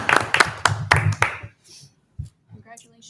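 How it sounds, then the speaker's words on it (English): Attendees at a town selectboard meeting in Middlebury clap in a short burst of a few sharp, close claps that fades out after about a second and a half, followed by scattered voices. "by applauding loudly."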